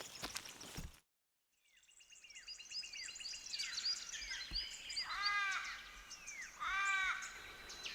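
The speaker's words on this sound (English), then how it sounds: "There's so many birds out this morning." Many wild birds calling at dawn at a bush campsite in Australia, with crow-like caws and repeated warbling, whistling calls rising and falling, several close and loud, others farther off, after a brief silent gap.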